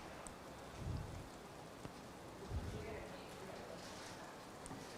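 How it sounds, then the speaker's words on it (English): Heavy monsoon rain pours at a karting circuit as a dense, steady hiss of downpour. A couple of muffled low thuds sit underneath. "Look at how quickly it has got to monsoon conditions."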